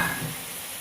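Chicken sizzles and is stirred in a masala of ground spices, a short, close burst of frying with no talk.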